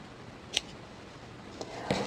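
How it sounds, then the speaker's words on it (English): Scissors snip the ends of a ribbon bow on a snowman hot cocoa holder, two or three short, crisp close-up cuts over a quiet room background, with no talking. "But we're going to trim these ends off."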